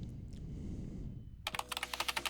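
Rapid keyboard typing in a video game, a quick run of crisp, evenly spaced keystrokes starting after a stretch of low background hum, close and clear with no voices.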